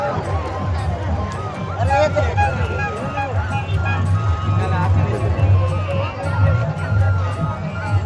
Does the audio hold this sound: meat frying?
no